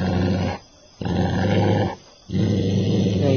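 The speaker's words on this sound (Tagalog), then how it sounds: "may narinig akong growl ng aso" A deep dog growl in a horror video game rumbles in two long bursts separated by brief pauses, close and loud, with no voices.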